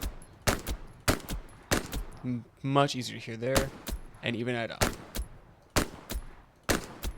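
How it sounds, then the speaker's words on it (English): Sharp gunfire thuds from a Sten submachine gun ring out at long range in Hell Let Loose, a World War II shooter, each shot a short loud crack repeating at a steady pace while someone talks between and over them. "it's very, very easy to hear that audible thud you get when you get a hit marker with the Sten"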